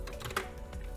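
Quick close clicks of typing on a computer keyboard, a short burst of keystrokes, one sharper than the rest.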